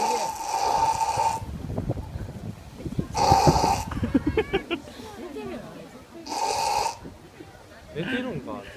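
A hippopotamus snores in loud, drawn-out rasping bursts, roughly three long snores separated by pauses, with people chattering quietly in between.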